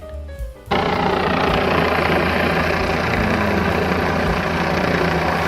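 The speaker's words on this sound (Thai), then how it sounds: "เฮลิคอปเตอร์เฮลิคอปเตอร์" A helicopter engine sounds after a brief bit of other sound, a loud, steady, throbbing roar that holds without a break to the end.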